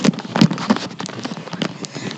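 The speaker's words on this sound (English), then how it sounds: "Why is the rain soft?" Rain patters on a car during a rainy drive, a soft, irregular tapping of drops against the vehicle that stays fairly close and moderately quiet throughout, with scattered heavier hits.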